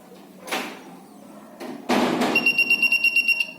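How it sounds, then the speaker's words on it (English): An electronic buzzer alarm signalling a conductor fault beeps in a rapid regular series of short tones after a couple of dull knocks and rustles. "That time buzzer produces the alarm and LED will be blink."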